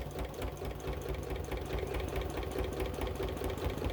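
A sewing machine stitching around a fabric face mask runs with a steady, low mechanical hum and rapid fine needle pulsing, faint and continuous throughout.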